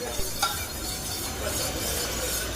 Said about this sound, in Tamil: இந்த ராகி பாலை இப்போ நம்ம அடுப்பில் வச்சு லோ ஃப்ளேமில் வச்சு நல்லா கிளறிட்டே வரலாம்